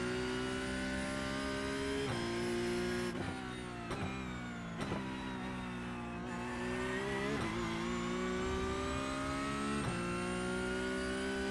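A Porsche 992 Cup race car engine at Sebring in the iRacing sim, droning steadily at high revs with repeated quick shifts and dips on braking, loud and continuous without any talk.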